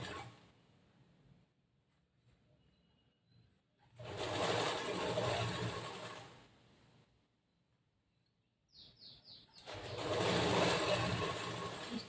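A sewing machine stitches a boat neck blouse in two long loud bursts of rapid whirring, separated by near silence and a few short stuttering starts, with no voices.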